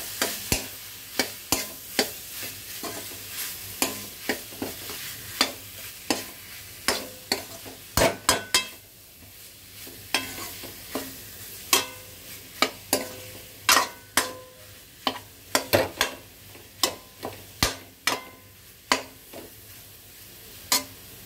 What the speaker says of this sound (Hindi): अब मैं आलू भी इसी में डाल देती हूँ। आलू को भी साथ में ही भून लेती हूँ इसके।